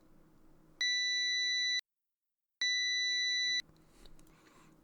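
Two clean electronic beeps from a multimeter's continuity test across both ends of a resistor, each a steady tone lasting about a second with a short silent gap between them, heard close and alone in a quiet room.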